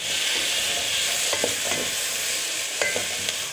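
Potatoes and vegetables frying in a pan with onions, made into a Korean chicken stew: a steady loud sizzle fills the clip, with a few soft stirring knocks and scrapes close by, and no voices.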